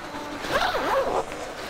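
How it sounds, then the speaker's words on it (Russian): A zipper on a mattress cover being pulled open in one continuous, rasping stroke, close and fairly loud, with no one speaking. "Может быть, все-таки расстегнуть кубик"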